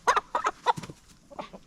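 A chicken clucks close by in a quick series of short, loud, choppy calls with brief pauses between bursts.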